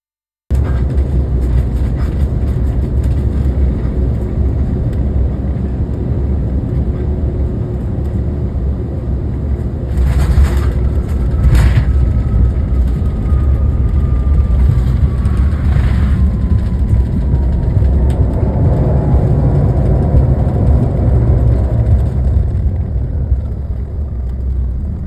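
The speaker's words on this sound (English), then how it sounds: "the pilot came in and made a perfect landing" A passenger airliner lands in strong gusty winds, with a loud, constant low roar of engines and buffeting wind plus a slowly falling whine, heard from inside the cabin.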